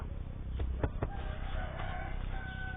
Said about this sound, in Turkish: Yeni geldi, yeni geldi bu tavuk.